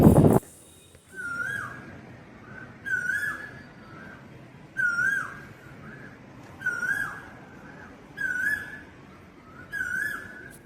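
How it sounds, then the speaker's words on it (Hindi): An Asian koel calls in the early morning, repeating the same rising whistled note six times at steady intervals of about a second and a half, clear and moderately distant over faint background hum. "कोयल की आवाज़, जो मीठी मीठी आवाज़ आ रही थी"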